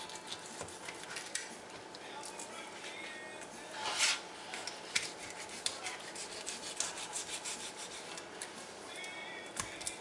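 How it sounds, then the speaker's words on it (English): A knife slices along the dorsal edge of a trigger fish to lift a fillet, making faint, quiet scraping and rubbing strokes with a few soft taps. "I'm going to start around the head here and cut along the dorsal"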